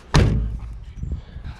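The door of an older van being fixed up with used junkyard parts slams shut with a single loud, close, heavy thud that rings down slowly afterward.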